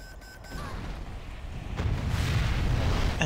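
An airstrike explosion hitting barracks in C&C Generals Zero Hour, a low rumbling blast that swells and grows louder over the last seconds.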